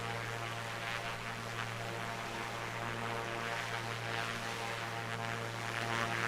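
Piper Comanche propeller plane in the A2A flight simulator, a steady engine drone with a buzzing propeller hum, held at an even level without pause and no voices.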